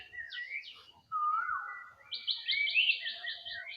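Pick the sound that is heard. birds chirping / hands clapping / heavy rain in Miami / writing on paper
birds chirping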